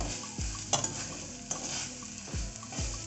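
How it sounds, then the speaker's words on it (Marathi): Freshly grated moist coconut is roasted in a pan for modak filling, with a soft sizzle under repeated scraping strokes of a spoon against the pan, close and quiet, no voices. "याच्यामध्ये खिसलेलं एक ओलं खोबरं घेतलेलं आहे परतून घेऊया लालसर परतून घ्यायचं आहे"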